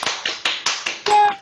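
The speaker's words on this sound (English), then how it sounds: "I'm going to invite people to unmute so we can give Pat a round of applause." A few online meeting participants unmuted to applaud after a physics talk, heard as about six sharp, close, evenly spaced claps with a brief tonal ring at the end.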